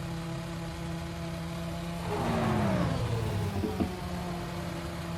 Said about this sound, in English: The engines are revving, the lights are on